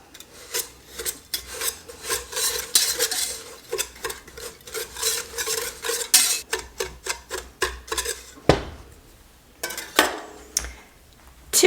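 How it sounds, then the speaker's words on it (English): A whisk scrapes and rattles quickly against a bowl, mixing the dry ingredients for a homemade peach pie filling with a dash of salt in rapid rhythmic strokes, close and fairly loud, pausing briefly near the end. "Now we're going to whisk that all together."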